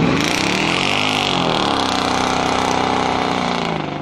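A Mercedes E55 AMG with a 5.4-liter supercharged V8 runs loud and close, a steady throaty engine drone with a brief swell in revs that fades slightly at the end.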